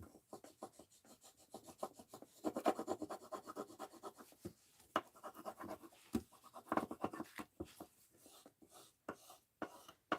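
A craft strip is burnished down by hand, giving quiet, close rubbing and scraping strokes in irregular bursts with brief pauses between passes.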